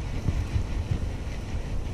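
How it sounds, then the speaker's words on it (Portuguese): Steady wind buffets the microphone beside the water during a fishing outing, a low continuous rumble with gentle gusting swells and no voices. "Mas o vento tá vindo nessa direção, assim."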